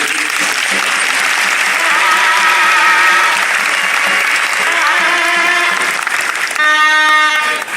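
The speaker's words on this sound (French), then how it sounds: "inviter toute la salle à l'applaudir" An audience in a hall applauds at a celebration of the International Day of the Seafarer, loud, dense and continuous clapping, with a few tonal sounds rising near the end.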